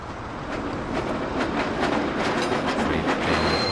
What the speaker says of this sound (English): Freight train rolling on down the line.